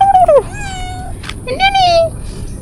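A person imitates cat meows in a forest with two drawn-out, wavering calls close by, while other people talk quietly between them.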